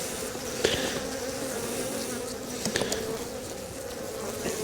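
Honeybees buzz at a hive in December, a dense steady drone close to the microphone with a few individual bees whining past.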